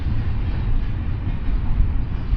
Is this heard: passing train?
yes